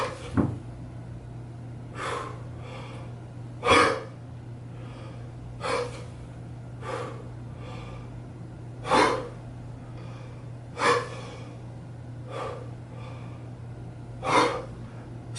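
Sharp, forceful breaths puff out at a regular pace, roughly every one to two seconds, during kettlebell push presses, close and loud over a steady low hum, with a soft thud at the start.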